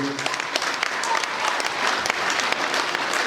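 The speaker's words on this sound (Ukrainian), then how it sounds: "Тож я хочу запросити на сцену Сергія Віталійовича під ваші бурхливі оплески." Stage audience applauding to welcome Serhii Vitaliyovych at the opening of a new choreography hall, steady dense clapping that holds for the whole stretch.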